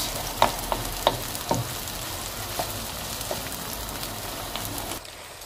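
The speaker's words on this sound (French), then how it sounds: "Je mélange bien. Je laisse revenir quelques minutes." Minced meat browns in a pan, a loud close sizzle broken by sharp clicks and taps as a utensil stirs it, until the frying suddenly drops away near the end.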